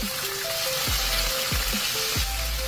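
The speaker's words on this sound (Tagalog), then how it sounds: "At saka natin isunod mga boss yung atay na binabad natin kanina." Marinated pork liver sizzling as it goes into a hot pan, a steady close hiss of frying with a few low knocks from the pan. No voices.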